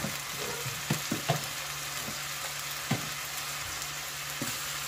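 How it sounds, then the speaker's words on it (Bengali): Beef with turmeric, cumin powder and green chillies frying in a pan, a steady close sizzle broken by several sharp scrapes and knocks of stirring, no voices. "এবার ভালোভাবে নেড়ে দিব।"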